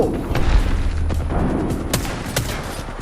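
A grenade goes off in the video game Apex Legends with a loud, heavy boom up front. Sharp gunfire cracks and blasts follow it, and the whole burst sits loud and close.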